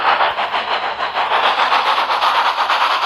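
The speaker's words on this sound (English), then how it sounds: "the two engines, chuffing together, went up the hill" Steady rhythmic chuffing of two steam engines working hard together up a hill, loud and close, with regular puffs repeating over a low mechanical rumble.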